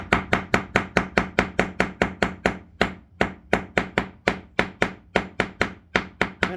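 A pocket knife strikes a tabletop with plywood underneath, over and over in a fast, steady rhythm of loud, close thwacks with a brief pause partway through.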